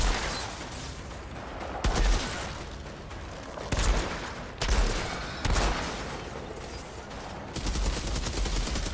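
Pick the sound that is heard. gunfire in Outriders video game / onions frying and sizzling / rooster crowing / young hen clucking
gunfire in Outriders video game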